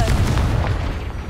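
A Confringo fire spell exploding in the Hogwarts Legacy video game, a loud deep boom that bursts at once and rumbles off over about a second, close and unaccompanied.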